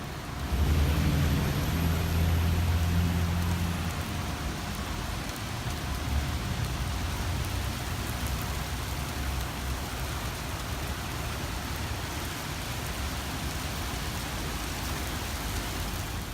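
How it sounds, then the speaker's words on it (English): Steady rain pours onto a car park in Aberdeen, a dense continuous hiss of drops on paving that stays loud and even throughout, with a brief low rumble near the start. "Here comes the rain."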